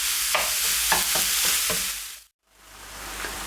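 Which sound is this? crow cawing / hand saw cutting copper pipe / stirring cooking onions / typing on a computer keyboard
stirring cooking onions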